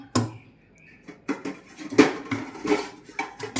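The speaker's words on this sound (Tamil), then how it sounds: "போட்டு மாவு மிக்ஸ் பண்ணிக்கலாம்" Kuzhi paniyaram batter is mixed in a bowl, with irregular clinks and scrapes of a spoon against the bowl, close by and with no voices.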